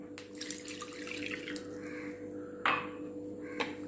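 Water poured into masala for a Kerala-style neymeen fish curry, a quiet trickle with a brief splash partway through.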